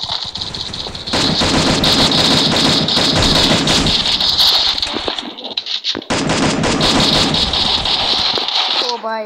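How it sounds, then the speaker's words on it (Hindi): An M4A1 rifle in a video game fires loud rapid automatic bursts in two long stretches, split by a brief pause. "तो भाई हम M4A1 से ही बंदे को मारेंगे।"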